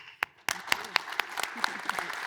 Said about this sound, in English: a big round of applause for our panel, please